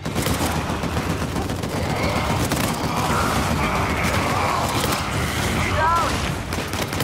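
Dense, continuous gunfire from the co-op survival mode of the video game Uncharted 4: A Thief's End, with rapid overlapping shots and booms filling the whole stretch at a steady, loud level.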